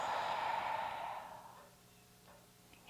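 A single long, audible exhale through the open mouth during a guided morning meditation, strong at first and slowly fading into near silence.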